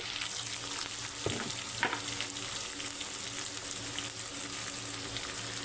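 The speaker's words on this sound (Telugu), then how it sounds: "ఉల్లిపాయ పచ్చిమిర్చి బాగా గోల్డెన్ బ్రౌన్ కలర్ వచ్చే వరకు ఫ్రై చేసుకోవాలి" Onions and green chillies with a pinch of salt fry in a pan, giving a close, steady sizzle and hiss broken by a couple of brief stirring knocks, with no one speaking.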